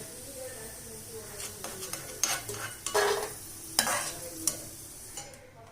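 Cashews and raisins roasting in ghee in a pan, a gentle sizzle with several sharp bursts of spoon scraping and stirring close by.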